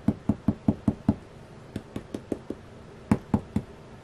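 Freshly baked bread gets knocked on its crust, producing about fifteen hollow, soft taps in quick bursts with short pauses, quiet and close with no talking.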